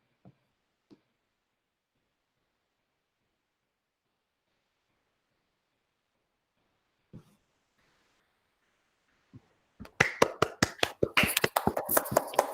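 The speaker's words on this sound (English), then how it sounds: "I think we can clap on our microphones, right?" Participants in an online school board meeting clap on their microphones: a few isolated taps early on, then a burst of sharp, close, rapid claps near the end, with near silence in between.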